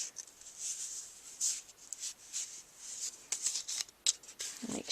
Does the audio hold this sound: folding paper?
yes